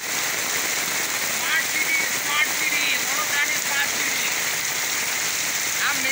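Steady heavy rain pours down in Vadodara, a dense, even hiss of drops on surfaces that fills the whole stretch without a break, loud and close.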